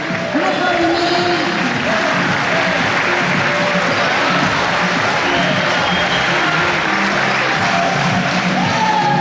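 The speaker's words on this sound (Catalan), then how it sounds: "Un aplaudiment." A large crowd applauds and cheers loudly and continuously, with whoops rising above the clapping, at the 36th Sant Julià de Vilatorta basketball tournament in 2022, and voices are audible through it.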